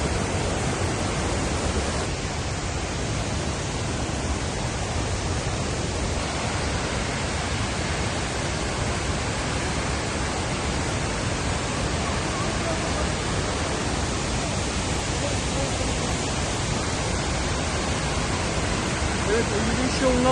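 The large Kuang Si waterfall in Laos sends up a steady, loud roar of crashing water that holds constant and unbroken throughout, with no pauses or changes in force.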